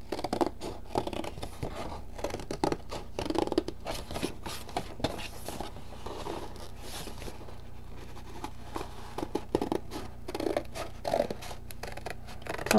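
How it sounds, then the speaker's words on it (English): Scissors cutting along drawn lines in a file folder for a DIY office supply project: a steady, close, quiet run of snipping and paper rustling, fairly continuous throughout. "Just going to cut along the lines there."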